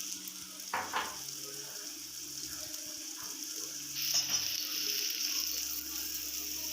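Ground soybean filling for soya momos frying and sizzling in a pan, a steady soft hiss with occasional scraping stir sounds, close and moderate in level, no talking.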